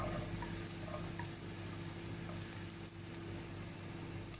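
Mushrooms, capsicum and celery fry in hot oil in a pan, giving a steady, close sizzle with soft crackling that runs evenly throughout, with no voices.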